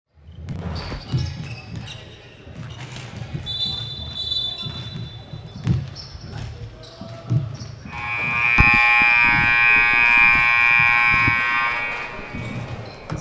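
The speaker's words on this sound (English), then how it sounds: "as you just heard the buzzer, that signals the final preparations for the match" Buzzer sounding in an indoor basketball arena before a men's college match, a loud sustained electronic drone lasting several seconds after earlier basketball bounces and a shorter tone, with faint voices in the hall.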